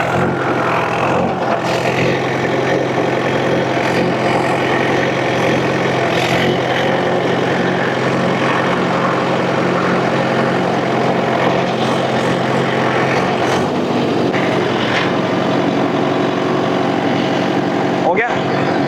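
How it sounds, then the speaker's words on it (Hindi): A Mahindra 585 tractor works a field with a Mahindra rotavator, churning and cutting soil in a steady, loud, continuous engine drone that stays close throughout, with a brief sharp knock near the end. "रोटावेटर जो है मिट्टी काटते हुए ये ट्रैक्टर चल रहा है।"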